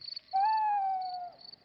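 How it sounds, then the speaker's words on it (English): A single long, clear cartoon owl hoot at night outdoors, smooth and steady, rising out of a faint high cricket trill that continues before and after. "That's an owl."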